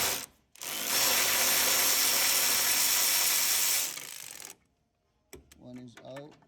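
Electric ratchet spinning out engine mount bolts on a Mitsubishi Mirage, a loud, steady whirring buzz held for about three seconds, then brief clinks of parts being handled.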